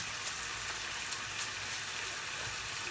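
Egg and bacon frying in a pan greased with Fry Light spray oil, giving a steady close sizzle with a few sharp pops and no talking.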